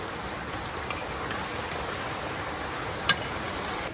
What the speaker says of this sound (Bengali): এত পরিমাণে বৃষ্টি নামছে একটু থামতেছে না বৃষ্টি